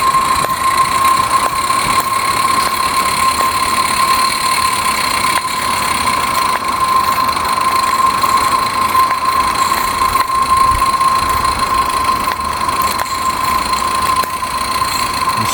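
A small Ruby-type live steam locomotive is fired up and running. It makes a steady hiss and whirr with a faint, constant high tone and soft rhythmic chuffing underneath, close and continuous.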